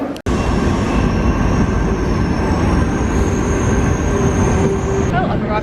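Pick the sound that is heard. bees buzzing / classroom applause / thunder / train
train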